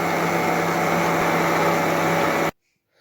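A food processor runs steadily as it kneads beignet dough for chocolate-filled doughnuts, giving a loud, even motor whir that stops abruptly near the end, followed by silence.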